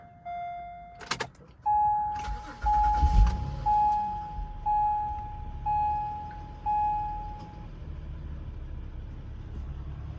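A 2012 Acura MDX with a 3.7-liter engine starts with a brief crank, then settles into a low, faint idle under a series of evenly spaced electronic beeps.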